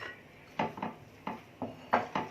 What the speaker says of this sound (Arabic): احنا هنحاول نقلب بالمعلقه